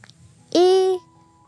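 A goat bleats once, a single loud, drawn-out call lasting about half a second with a wavering tone, heard close and alone against faint background noise.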